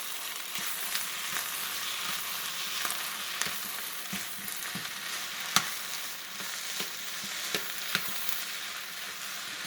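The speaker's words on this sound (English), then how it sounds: "Now I'm just mixing in these green peppers." Green peppers are stirred into fried rice in a hot pan, with a soft continuous sizzle under irregular scraping clicks of the spatula against the pan, steady and close.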